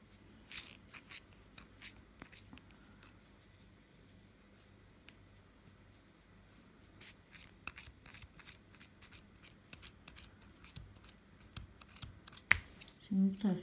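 Scissors cut through a knitted yarn bootie in a series of short crisp snips and scrunching strokes, growing busier and louder toward the end, with a person speaking intermittently over them.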